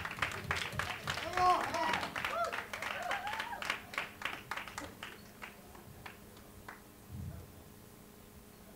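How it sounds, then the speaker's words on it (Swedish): Concert audience clapping after a live show, scattered hand claps and a smattering of applause at moderate distance, with a voice speaking over the start before the clapping thins out. "En applåd!"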